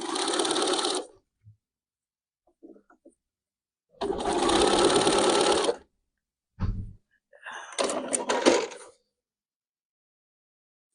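A 7 series sewing machine stitches fringe on a prayer flag in short bursts, a close whirring run of about a second, then a longer burst and a final choppy run, separated by quiet pauses with small clicks.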